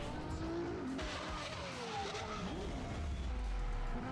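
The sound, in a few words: Ferrari Aperta sports car driving, tires squealing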